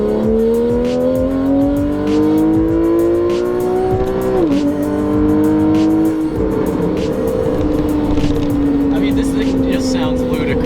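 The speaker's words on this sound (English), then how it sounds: "you can really hear the car sing. We'll actually pop it into Sport Plus here and we'll give you guys a listen." TechArt-tuned Porsche 911 GTS (991) revs hard in Sport Plus mode, its engine note climbing loud and close, dropping sharply at a shift and then holding a raspy howl, with sharp crackles scattered across.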